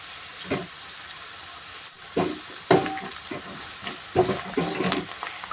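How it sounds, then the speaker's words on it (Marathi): Curry leaves hit hot oil with spiced masala for a sprouted moth bean curry, bursting into sharp crackling sizzles in several clustered pops, close and fairly loud against a faint steady frying hiss. "तिथं आता मी कढीपत्ता टाकणार आहे"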